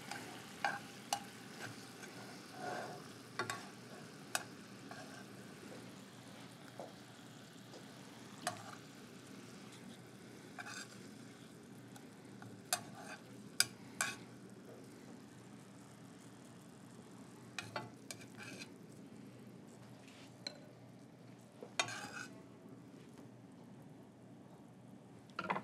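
Pak choy stir-frying in a pan gives a low, steady sizzle with scattered crackles and pops, and no voices over it.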